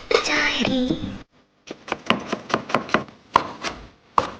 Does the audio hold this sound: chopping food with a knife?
yes